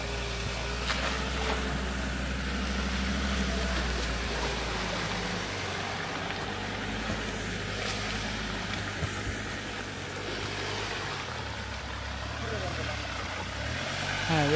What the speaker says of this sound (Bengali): অফ রোডে আমরা 4x4 নিয়ে চালাচ্ছি